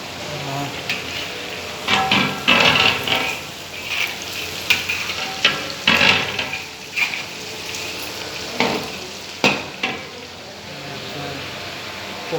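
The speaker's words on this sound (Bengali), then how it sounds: "চিকেন ফ্রাই করা হচ্ছে।" Chicken frying in oil for a wedding feast, a continuous sizzle broken by repeated louder bursts and clatters as pieces are stirred and turned, with a voice talking intermittently underneath.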